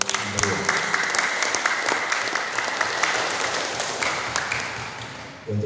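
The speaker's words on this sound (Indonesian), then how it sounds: "Untuk itu beri aplaus untuk Kepala Kesbangpol." Audience applause at a PDI Perjuangan party political training session in Cilacap, honouring the regional head of the national unity and politics office: dense, steady clapping from a full room, continuous and fairly loud, cutting off abruptly near the end.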